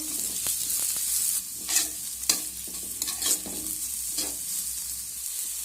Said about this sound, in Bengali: পেঁয়াজটা দিয়েও আমি এভাবে নেড়ে চেড়ে একটু ভেজে নেব